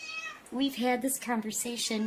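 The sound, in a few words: cat meowing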